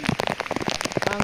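Rain falls outdoors during a fishing trip with bubu traps, a dense, close patter of drops striking surfaces in a rapid, irregular rhythm throughout.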